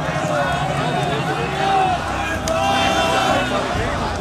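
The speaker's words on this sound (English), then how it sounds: "A mob surrounded the building." A large crowd massed around the KGB headquarters in Dresden at night, a dense, steady hubbub of many voices with shouting and movement close by.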